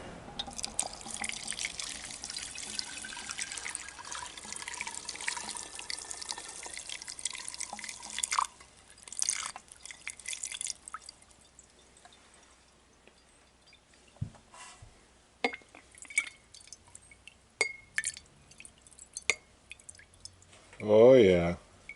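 Water trickling and dripping from a removed carburetor on a 1983 Snapper into a small funnel, an uneven patter that thins into sporadic drops, with a voice speaking briefly near the end.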